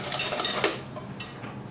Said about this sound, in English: Next, I'm gonna put my sugar in. Whisk that in really well.